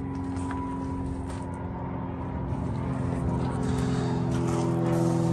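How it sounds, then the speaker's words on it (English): Steady motor traffic hums and drones, slowly growing louder as a vehicle seems to approach, a constant engine noise with no clear talk. "There's some traffic where I'm at"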